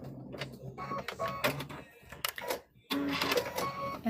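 A sewing machine stitching a fabric trick-or-treat bag closed, short bursts of rapid mechanical whirring and clatter broken by brief pauses, close and fairly loud.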